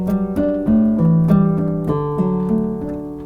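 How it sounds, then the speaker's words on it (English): Classical acoustic guitar patch on a Yamaha MOX8 keyboard plays a short riff of plucked notes and chords, each attack ringing and decaying, fairly loud with no talking. "Sort of a classical acoustic guitar."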